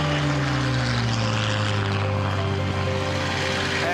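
A Spitfire's piston engine and propeller drone loudly and continuously during flight, with the engine note gradually sliding in pitch as the aircraft manoeuvres.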